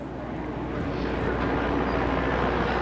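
Turbine-powered H1 unlimited hydroplane racing boat at a Seafair race, its engine giving a steady, loud, whooshing turbine roar that builds slightly as it moves slowly out of the pit area.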